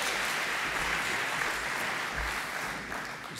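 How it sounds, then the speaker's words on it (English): Audience applause greets the keynote speaker at a university founders' dinner, a full, even roar of many hands clapping that fades slightly toward the end, with no talk over it. "let us all join in a round of applause for this year's Founders Dinner speaker, Mr. John Stackhouse."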